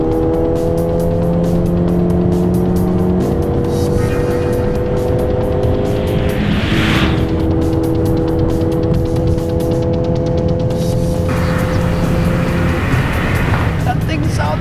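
A Ford Fiesta ST200 or Renault Clio RS 200 Lux hillclimb race car roars past at full speed, its loud engine note rising and falling with gear changes, while people talk over it.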